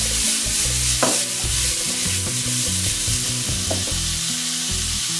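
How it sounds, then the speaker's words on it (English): Mushrooms frying over high heat in a pan, a loud continuous sizzle with repeated scraping and clanking of a utensil stirring them, no speech. "Now it's time to add mushroom. Now cook for 2-3 minutes for normal high heat."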